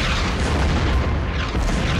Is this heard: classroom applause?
no